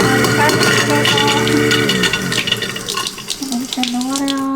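Water runs from a kitchen sink faucet in a steady rushing stream, loud and close, with someone talking over it for much of the time.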